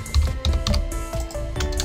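Quick bursts of typing on a computer keyboard, close up, with uneven clusters of key clicks and short pauses between them.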